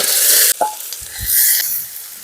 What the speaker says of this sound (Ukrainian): Піджарюємо цибулю до золотавої скоринки